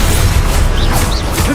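Loud Confringo fire spell blast in the Hogwarts Legacy video game, a dense booming burst with crackling debris and whooshing sweeps, filling a short moment at close range.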